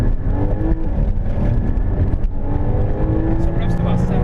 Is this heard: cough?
no